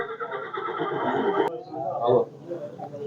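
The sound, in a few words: horse neighing at a livestock market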